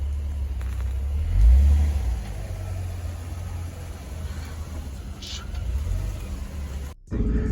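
A Honda Prelude fitted with a test pipe drives along with a low, rumbling engine drone heard from inside the car, steady with slight surges and a brief dropout near the end.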